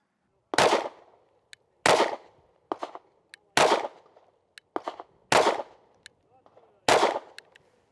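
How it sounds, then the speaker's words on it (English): Five sharp pistol shots fired at a target, loud and close, spaced about a second apart, with a few fainter clanks and ticks between them. "I'm shooting, hitting the target"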